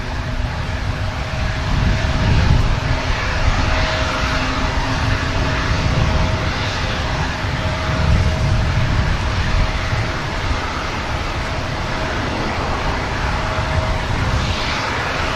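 A KLM airliner at Manchester Airport, a broad continuous jet engine roar with steady rumble, fairly loud and constant throughout with slight swells, no talk.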